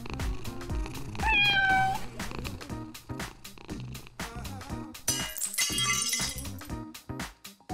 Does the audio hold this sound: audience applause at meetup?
no